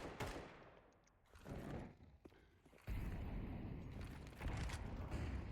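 Counter-Strike gunfire sprays through a wall in rapid bursts, a dense rattle of shots that starts, breaks off and resumes, fairly close and loud with no voices over it.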